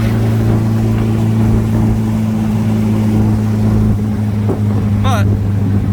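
Engine of a 1979 MG Midget roadster at full throttle, a steady, loud, droning hum with heavy wind rush, holding constant throughout.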